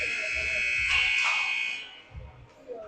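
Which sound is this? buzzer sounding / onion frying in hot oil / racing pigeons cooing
buzzer sounding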